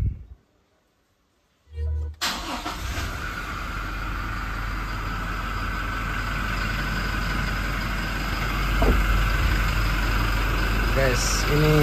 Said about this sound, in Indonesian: ini suara mesin